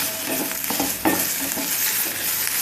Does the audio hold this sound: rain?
no